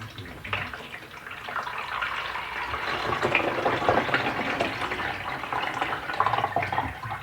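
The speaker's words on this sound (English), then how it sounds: "Pour this into the coffee pot." Liquid poured steadily into a coffee pot, a continuous splashing, trickling stream at close range that holds for several seconds with slight swells in intensity, no talking.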